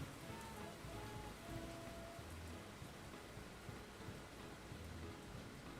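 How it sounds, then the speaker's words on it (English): Steady rain falls on a surface with low rolling thunder rumbling underneath, a quiet, even storm texture that continues throughout without voices. "Like, wow, nice thunder and lightning."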